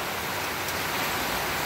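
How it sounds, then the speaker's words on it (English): Heavy rain falls outside during a thunderstorm, a dense, even hiss that fills the short clip with no breaks. "And we got some serious rain and lightning here now."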